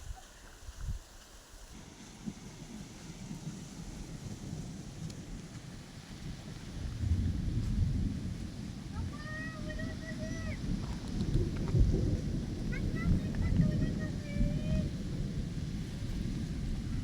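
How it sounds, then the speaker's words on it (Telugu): Low rolling thunder rumbles under an overcast sky before rain, a broad deep rumble swelling in the second half over wind noise, with a few bird chirps in the distance. "ధ్వనితో ధ్వనిస్తుంది ఉరుములు."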